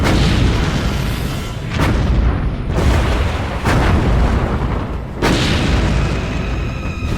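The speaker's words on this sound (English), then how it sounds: "she and South Dakota lay into Japanese cruisers and destroyers, firing rapid broadsides from 16-inch and 5-inch guns." A World War II battleship fires rapid broadsides from 16-inch and 5-inch guns at Japanese cruisers and destroyers, with several heavy booms over a dense, continuous rumble of artillery.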